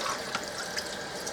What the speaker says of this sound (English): And you're just going to rinse this till it runs clear.